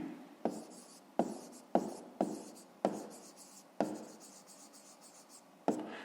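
A pen writes on paper in a quiet room, close and soft. There are about eight distinct strokes, each starting with a sharp tap, with short pauses between them and no speech.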